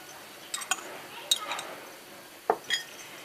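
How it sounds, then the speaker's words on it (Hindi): Chickpeas and potatoes are dropped into a bowl, producing a few light clinks and taps spread out over a few seconds, close and fairly quiet against a hushed background. "तो मैं यहाँ पे चने ऐड कर रही हूँ, इसमें आलू डाल देंगे"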